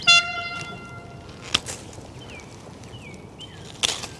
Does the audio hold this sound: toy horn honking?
yes